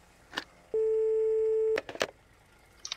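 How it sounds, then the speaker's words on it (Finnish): A telephone in the My Summer Car video game gives a steady held tone for about a second, bracketed by a few short clicks and beeps. "Vastataan tuohon puhelimeen."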